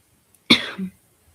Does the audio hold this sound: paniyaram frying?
no